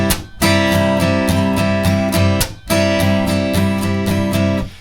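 An acoustic guitar strums a steady rhythm pattern in a song, each bar opening with a muted percussive strum followed by ringing chord strokes, played close and loud across two repeated bars.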